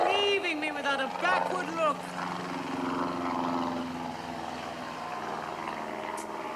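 Low droning aircraft engine from an airplane circling overhead, steady and moderately distant, heard under excited shouting voices at the start.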